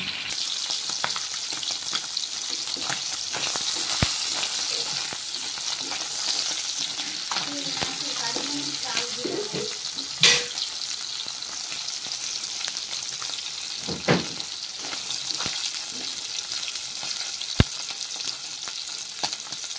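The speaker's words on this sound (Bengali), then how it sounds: "তেল ছিটকাচ্ছি, একটু সাবধানে ট্যাংরা মাছটি ভাজবে।" Tangra fish frying in hot oil in a pan, a steady close sizzle with spitting pops and occasional clinks of a utensil, no talking.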